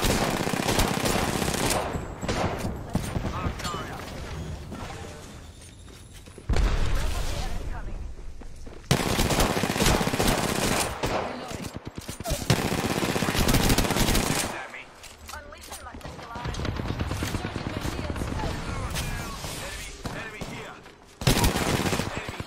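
Repeated bursts of loud automatic machine gun fire in the video game Apex Legends, separated by brief pauses, with a player talking over parts of the shooting.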